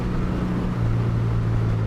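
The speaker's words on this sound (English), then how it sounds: "Oh, that exhaust note, raucous, beautiful" A Triumph Bonneville T140V motorcycle fitted with new exhaust pipes gives a steady, loud, close raucous exhaust drone that holds a constant low tone throughout.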